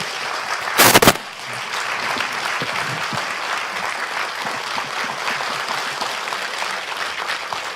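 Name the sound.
audience applause welcoming the author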